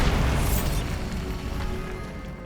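A Bombarda spell goes off in the video game Hogwarts Legacy as a deep, rumbling explosion boom that is loud at the start and decays slowly over a couple of seconds.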